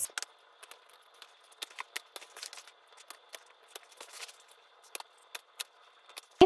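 Scissors trimming fabric while sewing a tote bag, a series of quiet, sharp snips in an irregular rhythm, close and alone.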